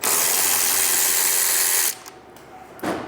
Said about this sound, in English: get these fender liner screws out